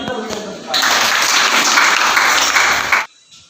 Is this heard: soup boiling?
no